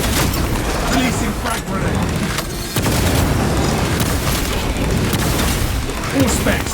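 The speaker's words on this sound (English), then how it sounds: "Releasing frag grenade." Frag grenade blast in the game Warhammer 40k Space Marine 2, a loud booming explosion with gunfire and combat noise rumbling continuously through the scene.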